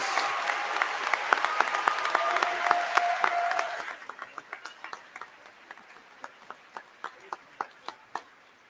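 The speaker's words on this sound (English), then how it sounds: "Please join me in a round of applause for our Human Excellence honorees" Commencement ceremony audience applauding honorees, a full crowd of clapping that thins after a few seconds to a single person's slow, evenly spaced claps fading out.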